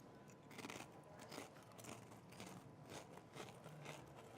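Crisps being bitten and chewed up close, a steady dense run of crunching and crackling for several seconds with no talking over it.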